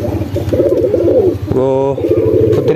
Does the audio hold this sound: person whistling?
no